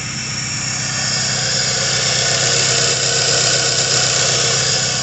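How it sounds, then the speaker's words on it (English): A car engine with a K-series swap and a straight 3-inch exhaust with no catalytic converter idles steadily and loudly, with a buzzing, vibrating tone and no talk. "I got full 3-inch exhaust, no CAD or nothing, so it's just straight exhaust."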